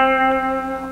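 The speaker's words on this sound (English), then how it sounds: "So a major pentatonic will sound like this." A major pentatonic scale runs through its notes on a heavily effected, reverberant electric instrument, with sustained, echoing tones blurring together over about a second.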